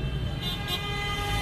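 Continuous overlapping car horns blare at a truckers' strike protest in Goiânia, Brazil, where drivers gathered against high gasoline prices, forming a dense, sustained wall of honking with no voices.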